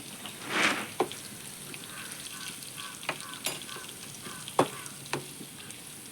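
Raw plantain frying in a pan with turmeric powder, a soft steady sizzle with scattered spatula taps and scrapes, fairly quiet and close.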